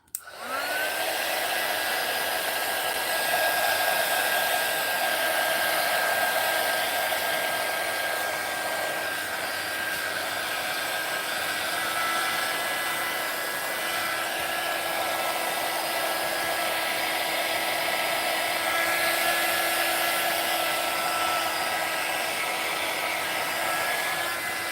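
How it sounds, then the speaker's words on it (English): A heat tool blowing hot air for craft embossing, a steady loud whirring rush that runs nearly unbroken throughout with no talking. "I'm going to take the heat tool."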